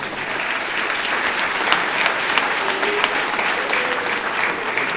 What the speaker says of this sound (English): yeah, you can give Taylor a round of applause.